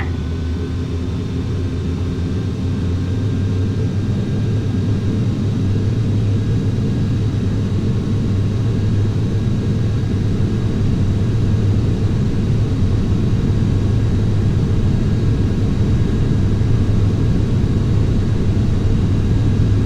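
Simulated airliner engines in Flight Simulator X roar continuously through the takeoff roll, a loud, steady low rumble with a faint high whine, close and unbroken, no voices.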